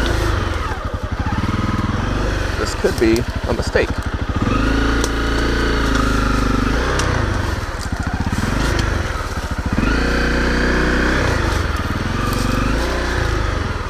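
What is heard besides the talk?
motorcycle riding along a trail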